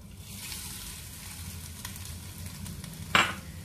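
Grated coconut fries in a pan for a Kerala-style horse gram and yam erisseri, a low steady sizzle with faint utensil scrapes and one brief sharp clack near the end.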